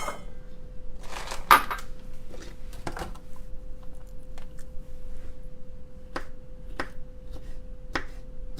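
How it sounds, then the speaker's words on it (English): A knife slices green olives on a cutting board for a salad: a few soft, sparse clicks and taps against the board, quiet and close, with a faint steady hum underneath. "So we're gonna slice these green olives up."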